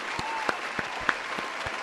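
Brief, steady applause from an audience for a football goalkeeper's performance, a continuous patter of clapping with a few sharper individual claps standing out.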